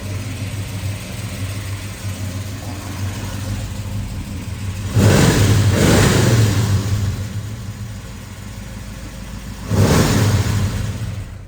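A 1969 Chevrolet Chevelle with a 396 engine idles with a loud, steady rumble, then revs hard twice in two surging blips that fall back to idle.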